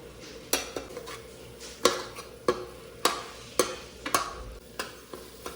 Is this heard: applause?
no